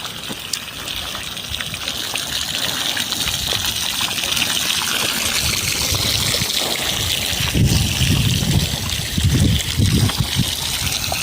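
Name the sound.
water spraying from a burst irrigation pipe line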